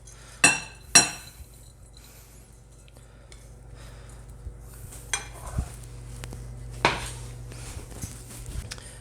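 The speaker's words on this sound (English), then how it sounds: "we're going to put it all in a large mixing bowl, mix it all with our spices" Cooked quinoa being tipped into a large mixing bowl, two sharp clinks of a utensil against the bowl at the start, then softer scrapes and another clink, near and otherwise quiet.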